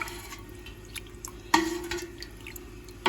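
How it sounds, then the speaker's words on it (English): Whey drips from curds while feta cheese is made, faint scattered drops plinking at irregular intervals, with a couple of slightly louder splashes against a quiet background. "It just keeps on releasing all that whey."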